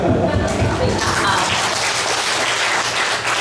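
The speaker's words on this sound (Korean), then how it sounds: "박수박수" Audience at a retreat talk breaks into applause, a close, steady wash of clapping hands that holds for a few seconds under faint voices.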